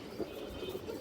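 A fancy pigeon coos softly in a short low burst, faint and close, with light background noise and no talk.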